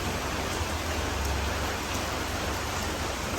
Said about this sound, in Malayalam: പിന്നെ ഇപ്പൊ നല്ല മഴയാട്ടോ